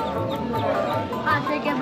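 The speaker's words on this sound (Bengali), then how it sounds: "এপাশে মুরগি রয়েছে" Chickens cluck and murmur close by at a crowded weekly village market in Kishoreganj, Bangladesh, amid a noisy background with voices mixed in.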